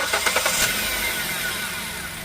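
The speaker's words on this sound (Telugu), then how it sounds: "ఇంజిన్ స్టార్ట్ చేస్తున్నాను, సౌండ్ ఒకసారి అయితే గమనించండి." A 2019 Hyundai i20 Active petrol car engine cranks and catches, a brief starter whir at the start settling into a steady, close idle hum with no talking.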